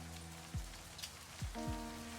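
Steady rainfall in a horror interactive novel game, a soft constant hiss under low sustained musical tones, with a few deep descending swooshes.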